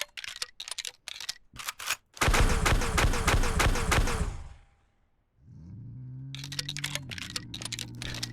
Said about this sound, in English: We could just pump shotgun ammo into it